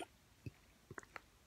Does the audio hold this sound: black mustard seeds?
no